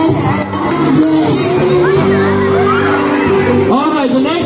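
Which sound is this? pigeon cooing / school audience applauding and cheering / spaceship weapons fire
school audience applauding and cheering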